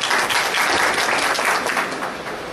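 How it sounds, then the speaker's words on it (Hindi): Dense, loud audience applause at a comedy and poetry gathering, a continuous roar of many hands clapping throughout with no pause. "उनके भी सम्मान में आप तालियां बजाएं"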